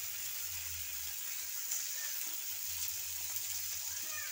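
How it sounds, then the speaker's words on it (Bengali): Chopped tomato with garlic and ginger paste frying in a pan, giving a steady, fairly quiet sizzle throughout with a faint low hum underneath. "টমেটো কুচি দিয়ে আমি নাড়াচাড়া করছি, ভেজে নিচ্ছি টমেটোটাকে।"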